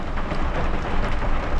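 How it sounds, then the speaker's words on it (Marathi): Heavy, unexpected summer rain pours down on city streets in Pune, a dense, steady rush of broadband noise that holds at an even loudness throughout, with no voices heard. "लिटरली एवढ्या जोरात पाऊस येतोय ना"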